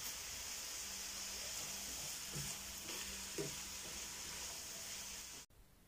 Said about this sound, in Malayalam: സവാള വഴന്ന് വരുന്നുണ്ട്